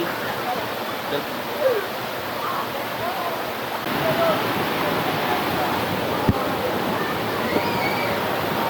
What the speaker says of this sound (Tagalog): Tambay lang muna tayo sa habang may waterfalls.